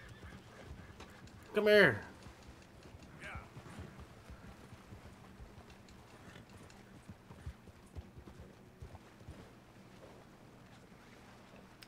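In Red Dead Redemption 2, a horse near water lets out one loud, close whinny early on. Scattered hoof clops and splashing movement follow at a lower level, and a man briefly calls out.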